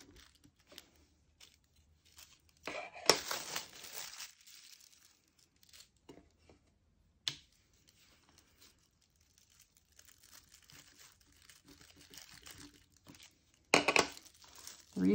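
Deli wrap crinkles and crackles as an acrylic pressing tool shoves a cutter into a polymer clay slab, giving sporadic close bursts of crumpling between quiet gaps.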